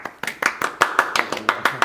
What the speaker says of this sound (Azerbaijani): Əhsən, alqışlar.